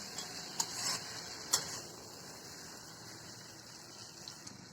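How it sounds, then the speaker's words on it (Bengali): Eggplant masala being stirred and mixed with a ladle, a few sharp scrapes early on over a soft, steady sizzle, then quieter low frying noise. "এবার হাতা দিয়ে ভালোভাবে সেটাকে মিলিয়ে মিশিয়ে নেব"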